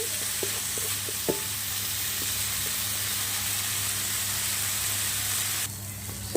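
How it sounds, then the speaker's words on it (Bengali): Masoor dal (red lentils) sizzles loudly in a hot pan while a spoon scrapes and stirs, giving a few clicks over the constant frying hiss. "তাহলে আমি কিছুক্ষণ ভাজা ভাজা করে নিচ্ছি"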